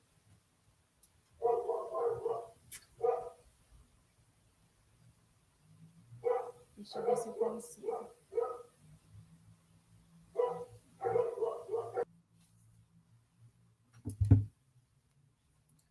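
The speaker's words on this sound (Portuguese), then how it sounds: "Vocês estão ouvindo aí alguns latidos" Dogs barking in the background in short bursts of several yips and barks, spaced apart and moderately distant, with quiet conversation nearby.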